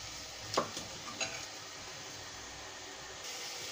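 Tomato puree sizzling in oil with spice paste for a Mangalorean raw jackfruit stir fry, a faint, steady hiss broken by a couple of soft stirring clicks near the start.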